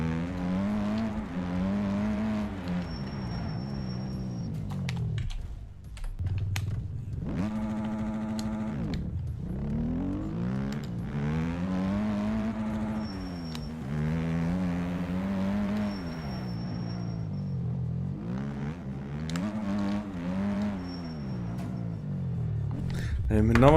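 A motorbike engine revs again and again as the throttle opens and closes, its pitch climbing and falling in long sweeping waves. The sound stays close and steady for over twenty seconds, with brief high whines above the engine note.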